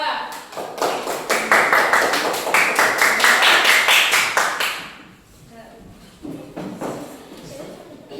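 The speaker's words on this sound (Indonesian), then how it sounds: "Coba tepuk tangan untuk kelompok 2" A classroom of elementary school pupils applauds a group for about five seconds with a quick, dense patter of hand claps. The clapping then fades into a quieter stretch with a few scattered claps and soft background voices.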